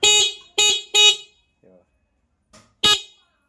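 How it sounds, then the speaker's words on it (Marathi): A small horn fitted to a child's bicycle and wired to a motorcycle-style starter button gives four short, sharp honks in an irregular pattern, close and loud, with brief quiet gaps and a faint voice between. "आणि हे पाहू शकतो समोर हॉर्न. हे बघा, हे असं दाबल्यानंतर वाजतंय."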